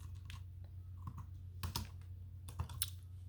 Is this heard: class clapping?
no